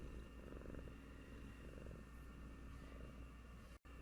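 A large male house cat purrs steadily and very close, a low continuous rumbling pulse that runs unbroken through the whole stretch and briefly drops out near the end.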